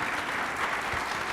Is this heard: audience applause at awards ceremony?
yes